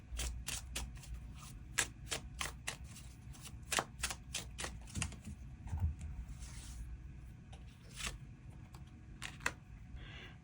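Tarot cards are shuffled and drawn in a quiet room, with crisp papery riffles and sharp flicks and taps scattered through the clip, each snap distinct and close.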